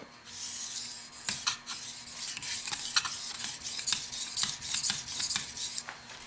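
A chef's knife is drawn again and again across a wet whetstone with a guide clip, giving steady rhythmic gritty rasping strokes up close, with no talk.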